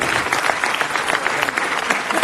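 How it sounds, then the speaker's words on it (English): A burst of applause at a city council meeting, dense steady clapping from many hands filling the whole moment without pause. "that deserves another round of applause"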